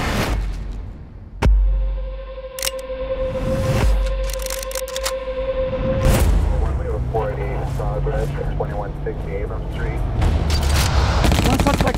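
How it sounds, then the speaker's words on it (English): Bursts of automatic gunfire crack and boom in a 2018 crime thriller trailer set outside a bank, layered over a dramatic score with sharp impacts and tense musical hits. "Shots fired! Shots fired!"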